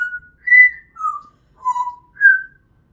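A pet bird whistles five clear, separate notes at varying pitches, each about a quarter second long and spaced evenly, close and alone with no talking.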